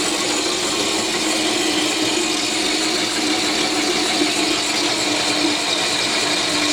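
A motor-driven bead roller, fitted with a large motor and a reduced-size sprocket, runs too fast, producing a continuous close mechanical drone with fine ratcheting rattle throughout and no talk.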